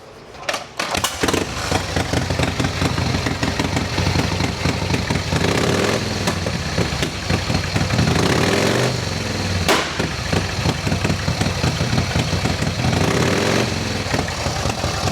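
A vintage racing motorcycle with short open pipes fires up and runs loud, its rapid throbbing exhaust revving and settling in waves, close by and dominant throughout.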